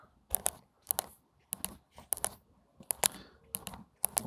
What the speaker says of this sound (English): And let's type that in, scale